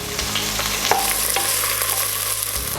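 Onions with a pinch of salt sautéed in a pot for chicken biryani, a steady close sizzle running throughout with scraping stir strokes and one sharper clack of the spoon against the pot, no voices.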